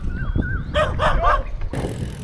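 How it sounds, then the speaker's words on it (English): Dogs bark a few times close by in a rural area where cows graze, a short burst of yelps over steady outdoor background noise. "Where there's cows, there's always dogs here."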